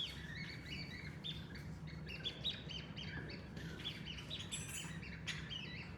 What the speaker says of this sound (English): So we've got that bird sound.